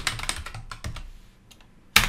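A quick burst of typing on a computer keyboard while a file name is entered, with a run of close, crisp keystrokes, a short pause, then one louder final key press at the end.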